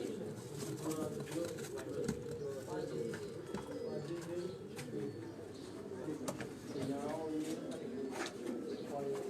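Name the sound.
rooftop pigeons cooing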